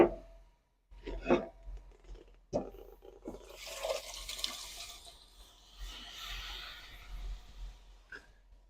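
Water running from a tap into a used cooking pot to soak it, a hissing rush with a few knocks and clatters at the start, close by.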